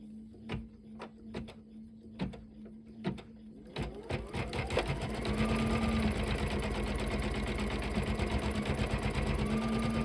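A sewing machine stitches an edge-to-edge quilt pattern, starting with a few short separate bursts, then settling into a continuous fast, close hum and clatter.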